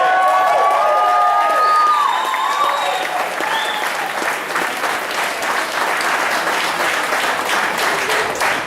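A crowd breaks into steady, sustained applause with some cheering and whoops at the start, filling the room for several seconds.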